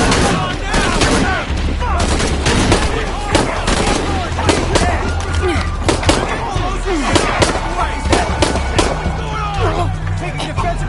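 Constant loud gunfire in Shadow of the Tomb Raider, a chaotic firefight inside a church with rapid overlapping shots and bursts over a heavy rumbling bed, shouted voices mixed in throughout.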